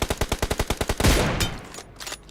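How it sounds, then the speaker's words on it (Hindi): Gunfire in the BGMI mobile battle royale game: a rapid, evenly spaced string of about ten shots, then one heavier booming shot that rings out and decays. "मैं यहाँ पे M24 उठाता हूँ, आराम से प्यार से रिलोड करेंगे और मारेंगे सर पे रख के"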